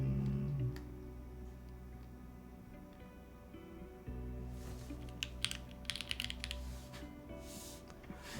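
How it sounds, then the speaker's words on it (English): Typing on a Mode Envoy mechanical keyboard, a quiet run of clicky keystrokes that grows busier in the second half, heard alone at low level behind faint background sound. "Mode Envoy is a dream typing experience."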